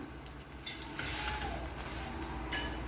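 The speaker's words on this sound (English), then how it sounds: "I prefer adding the oil direct to the pan" Oil going into a hot frying pan for chapati gives a steady close sizzle and frying hiss, with a brief stir and a small metal clink partway through.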